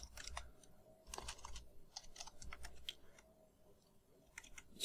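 Typing on a computer keyboard, a steady patter of quiet key clicks in irregular bursts with faint background hum and no talk.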